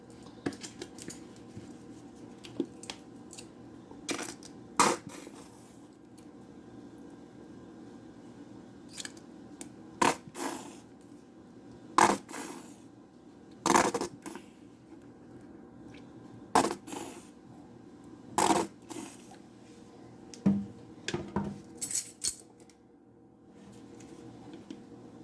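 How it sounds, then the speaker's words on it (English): Spoon scraping and clicking against a bowl while deviled egg filling is mixed with cheese and mustard, a series of sharp intermittent taps and scrapes over quiet background, close and fairly faint. "And we'll mix it again."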